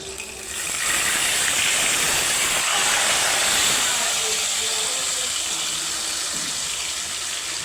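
Marinated chicken goes into hot oil and fries with a loud, steady sizzling hiss that swells after the first second and holds throughout. A voice speaks faintly underneath.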